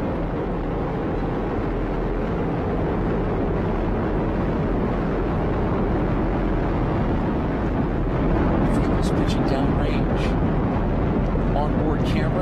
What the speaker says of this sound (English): Now experience that rumble from the Falcon 9